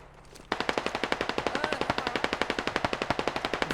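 Gunfire in the video game Squad: a sustained rapid automatic burst of close, loud shots in an even rhythm, starting abruptly and running without pause to the end.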